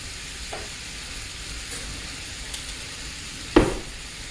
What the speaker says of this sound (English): you're going to stir this in and let it heat through